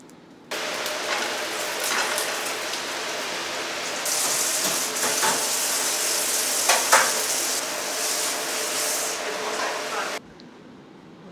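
Garlic pork (carne vinha d'alhos) frying in a hot pan, a loud, steady sizzle that surges halfway through and then cuts off, with stirring scrapes and a voice talking over it.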